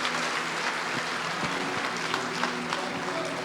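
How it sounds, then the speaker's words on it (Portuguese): A church congregation applauding during a morning worship service, a dense, steady wash of claps at moderate distance, with some voices mixed in throughout. "Você pode aplaudir mais forte"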